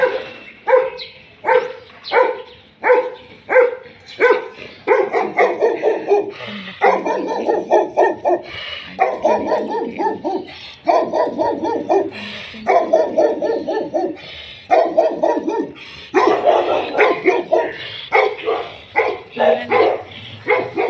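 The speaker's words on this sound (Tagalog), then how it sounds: "Ang lalaki ng aso dito." Big dogs bark repeatedly in bursts, loud and close, deep woofs coming in clustered volleys with short pauses between, some yips mixed in, heard along a morning street walk.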